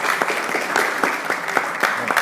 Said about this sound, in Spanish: le demos un aplauso emotivo al señor rector que nos acompaña